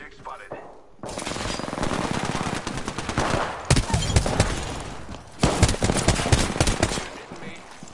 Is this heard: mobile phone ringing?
no